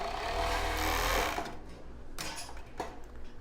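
An overlock sewing machine stitching a plus-size bra runs in a loud, close, steady whir for over a second, then stops and leaves quieter handling noises with a couple of brief clicks.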